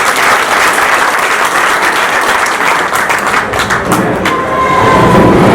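Students and parents at a career guidance programme in Charkhi Dadri, Haryana break into loud, sustained applause, a thick continuous clatter of clapping from a large crowd that stays strong to the end.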